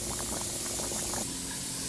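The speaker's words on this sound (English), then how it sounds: "I'm just going to let it cook really slow for about 30 minutes" Smothered chicken breast simmering slowly in a pan, giving a steady close bubbling and hiss with small popping bursts throughout, no voices.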